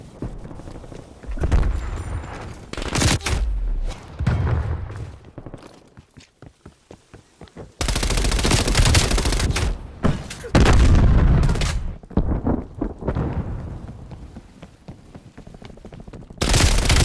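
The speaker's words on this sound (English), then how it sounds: "Throwing Semtex." A Semtex grenade is thrown and explodes in Call of Duty: Black Ops Cold War, with loud bursts of gunfire and booming blasts that come and go over about seventeen seconds amid dense battle noise.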